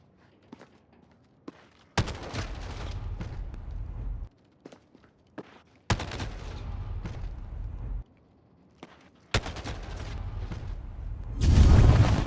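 Gunshots in a Call of Duty Warzone Gulag fight: three sharp reports each followed by a couple of seconds of rumbling echo and movement noise, with faint footsteps and clicks in between and a louder rush at the end.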